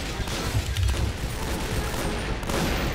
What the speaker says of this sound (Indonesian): Dia langsung ditembak.